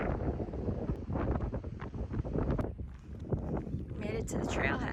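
Strong breeze buffeting the microphone on a wooded hiking trail near Austin, Texas, a loud, gusty rumble that rises and falls continuously, with a person talking over it.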